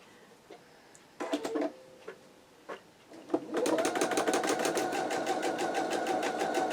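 A sewing machine chain-pieces calico quilt sashing strips. A few separate clicks and thumps are followed by a steady, rapid needle-tapping whir that runs close and continuous to the end.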